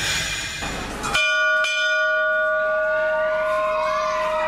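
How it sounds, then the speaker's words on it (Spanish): A loud school bell in El Salvador rings with a sharp strike, then a long sustained metallic tone that slowly fades, with faint children's voices in the background. "La campana ya sonó."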